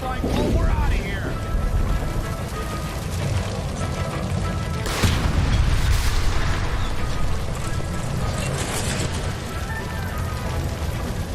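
A gas line by a stove blows up in the video game L.A. Noire: a loud broadband boom bursts out midway, rising above a dense, continuous bed of game noise, with voices talking through it.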